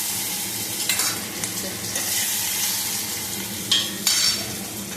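Curry leaves and tomato pieces stir-fry in oil with ginger-garlic paste in a pan, a steady close sizzle broken by a few scraping strokes of the spoon, with no voices.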